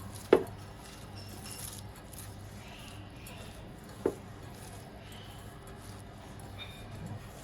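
A cabbage salad with grated coconut and sugar being mixed in a bowl, heard as two sharp utensil knocks spaced a few seconds apart over a quiet kitchen background.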